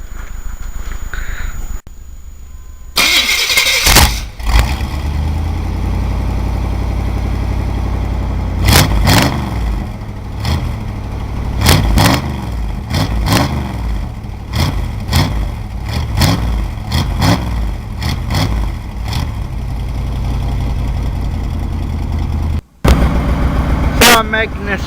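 A 1993 Chevy truck with a built 350 small-block, bored 30 over, cranks and starts, then idles and revs loud and close in repeated throttle blips, with a brief cutout near the end.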